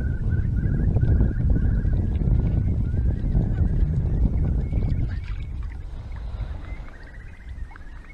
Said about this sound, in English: There's a huge flock of geese over there as well.